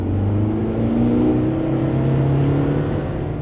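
A Kia Venga small MPV with a 1.4 litre diesel engine accelerates with a steady, loud, droning growl from inside the car, the engine note rising slowly throughout, with no talking.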